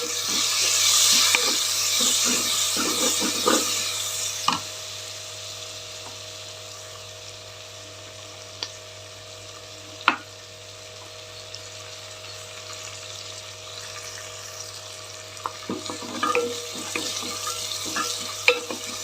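Fresh mint leaves sizzling in a pan while a spoon stirs them for a spinach curry, with a low steady frying hiss, occasional clinks and scrapes, and louder stirring bursts at the start and end.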